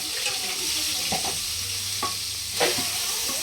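Chopped onions frying in a pan give a constant bright sizzle, with a few scattered stirring scrapes and knocks from the spatula. Close and fairly loud, with no talk.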